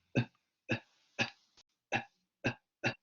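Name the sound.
silent cough demonstration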